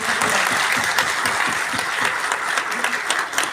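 A crowd at a retirement program gives a loud welcoming applause, a dense, continuous burst of many hands clapping close by, sustained at an even level throughout.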